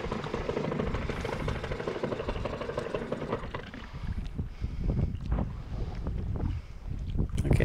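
A sailboat's outboard motor runs steadily at close range while the boat is brought to anchor, a continuous low rumble with wind buffeting the microphone throughout.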